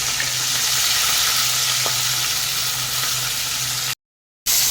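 Small hilsa fish fry lightly in hot oil, giving a steady, loud, close sizzle with a brief break near the end.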